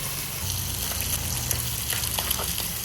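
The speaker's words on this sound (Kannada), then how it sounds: "ಇವಾಗ ನೆಕ್ಸ್ಟು ಮೀನು ಹಾಕ್ತಾ ಇದ್ದೀನಿ ದೋಸೆ ಕಲ್ಲಿನ. ಉರಿ ಕಮ್ಮಿ ಉರಿಲೇ ಹಾಕೊಂಡಿದ್ದೀನಿ" Fish frying on a dosa tawa over low heat gives a soft, steady sizzle with faint crackles and pops, close by and continuous, with no voices.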